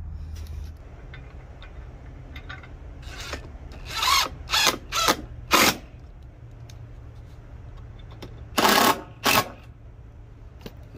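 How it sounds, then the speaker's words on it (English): A drill drives Phillips head screws into a pergola bracket, heard as several short, close bursts of whirring and grinding separated by quiet pauses over a low background hum, with no talking. "the screws that came with it, which will be a Phillips head"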